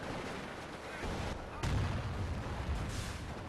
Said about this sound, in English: look at all the grenade launchers doing damage to that militia squad